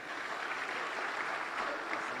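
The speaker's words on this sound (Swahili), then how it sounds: "Makofi mengi sana" An audience at a formal ceremony attended by the President applauds steadily, a dense crowd clapping at even loudness throughout.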